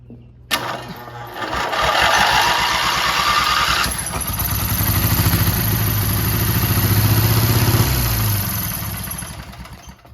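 An old engine, sitting unused for 25 years, cranks and catches, then idles loudly close by with a rough, rapid clatter that rises and falls in speed.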